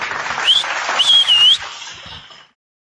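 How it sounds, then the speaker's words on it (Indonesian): Brief audience applause at a religious talk, mixed with a couple of sharp whistles from the crowd, swelling quickly and then fading out after about two seconds. "Tepuk tangan lagi deh"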